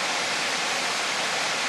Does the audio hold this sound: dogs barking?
no